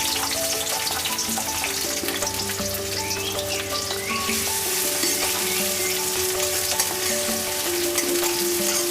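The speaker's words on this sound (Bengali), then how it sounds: "তেলটা গরম হয়ে গেছে এখন দিয়ে দিচ্ছি কাঁচা লঙ্কা পেঁয়াজ" Chopped onion and green chillies hit hot mustard oil and fry with a loud, dense, continuous sizzle close by, steady throughout with a faint stirring scrape and no voices.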